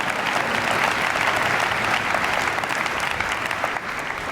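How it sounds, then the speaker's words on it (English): A keynote audience gives Todd a big round of applause, loud, dense clapping from a full crowd that holds steady throughout with no voices standing out. "Give him another big round of applause,"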